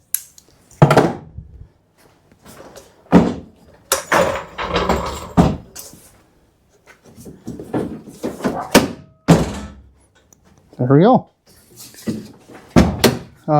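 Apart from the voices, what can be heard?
Geo Tracker car door being opened and shut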